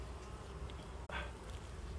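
Honey bees hum steadily in an opened hive, a dense, continuous buzzing close by with a brief soft knock partway through.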